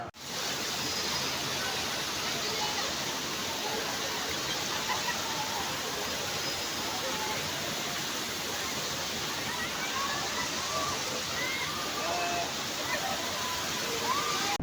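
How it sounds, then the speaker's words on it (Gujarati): Water pours and rushes in a steady, unbroken stream throughout, loud and close, like a continuous gush splashing down. "અમારો વારો આવી જાય પાણી રેડવાનો એટલે પછી અમે જાય પાણી રેડવા"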